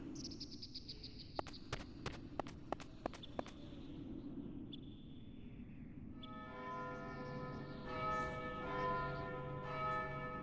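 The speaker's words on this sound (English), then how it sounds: "going down there made the bell chime" A bell chimes in the Vagrant Story video game, a faint, ringing tone that lingers over quiet ambience after a run of sharp footsteps or clicks, with a soft layered chord swelling in near the end.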